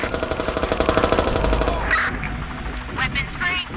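Rapid automatic gunfire in Watch Dogs 2 rattles out in an even burst of about twenty shots for nearly two seconds, loud and close, then breaks off into scattered noise and voices.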